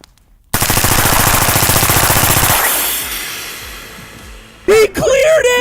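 Automatic gunfire through an extremely long 25-yard suppressor on a shooting range, a loud sustained rapid burst of about two seconds that tails off, with brief voices after it.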